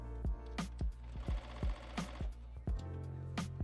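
A sewing machine stitches a tea towel dress in short rhythmic bursts of rapid needle thumps, close and clear, pausing briefly between runs.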